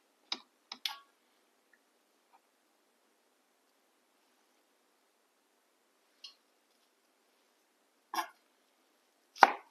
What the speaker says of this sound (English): I think I'll cut it in strips anyway.